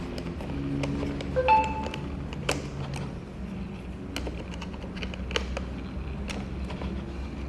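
A cheap plastic smartphone RGB light being tightened by hand, with steady close clicking, ticking and scraping of small parts over several seconds, no speech.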